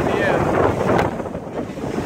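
Big ocean waves surging at Redondo Beach Pier, a loud broad roar mixed with wind buffeting the microphone, easing slightly toward the end.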